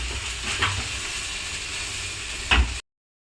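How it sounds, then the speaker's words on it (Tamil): Sundakkai vegetables sautéing in a pan for sambar give a steady close sizzle, broken by two brief scraping stirs, before cutting off abruptly. "சுண்டைக்காய் சாம்பாருக்கு காய் வதக்கிட்டு இருக்காங்க"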